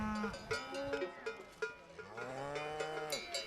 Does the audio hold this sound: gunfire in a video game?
no